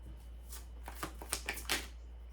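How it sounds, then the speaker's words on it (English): Tarot cards riffle and snap in a quick series of crisp, papery bursts, fairly close and moderately loud, with a steady low hum underneath and no talking. "One more shuffle."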